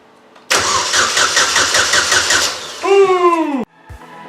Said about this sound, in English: we're just going to see if we can crank the starter